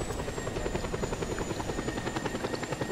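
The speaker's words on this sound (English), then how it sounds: "Oh, you're in a jet." An aircraft in the video game Just Cause 2 roars steadily throughout, a dense, loud rhythmic engine drone with fast pulsing and a faint high whine, alone without talk.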